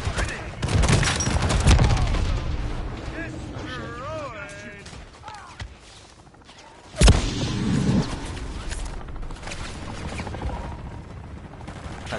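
Explosions and bursts of gunfire from a first-person shooter game, including a helicopter blowing up, loud and dense across the whole stretch, with a sharp blast near the middle and players talking over it.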